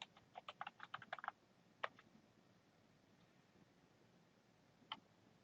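Keys tapped in a quick burst of about a dozen light clicks on a computer keyboard while a login ID is entered, then a couple of isolated keystrokes follow after a pause, close and fairly quiet with no talking.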